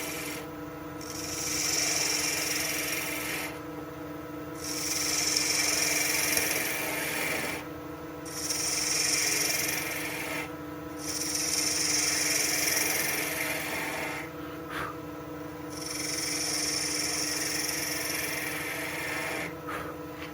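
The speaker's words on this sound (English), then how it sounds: "Next up, I'm going to use my 3/4 inch skew." A 3/4 inch skew chisel cuts a wood top blank on a lathe, a steady rubbing, rasping shave that rises into several cutting passes of about two seconds each, with a constant motor hum beneath and no talking.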